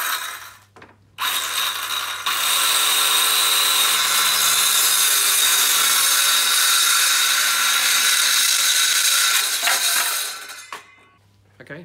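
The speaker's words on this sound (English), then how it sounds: "if you try and cut with these saws following the guidelines in the front here, you end up all wobbly" A hand-held power saw cuts through a tongue and groove board for a spa cabinet door, starting with a short burst and then running as a loud, steady whine for about eight seconds before it winds down.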